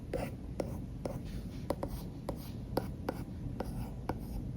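Pen stylus drawing on a UGEE UT2 drawing pad with a matte screen protector, soft scratchy strokes and light taps repeating irregularly, close up over low background noise.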